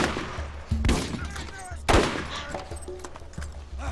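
Gunfire in the shooter game Borderlands, two sharp loud shots about a second apart followed by scattered smaller bursts and background game noise.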